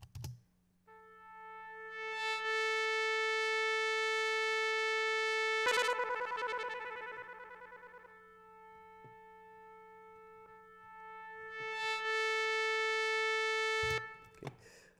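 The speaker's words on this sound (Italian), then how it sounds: "Come suono sto usando la tromba jazz e faccio sentire un attimo la dinamica." Jazz trumpet playback from Sibelius 7 notation software sounds a long, pure held note that swells loud, fades away, then swells again, with soft keyboard clicks around it and no talking.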